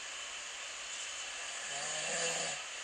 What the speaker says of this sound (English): This is last night's snoring.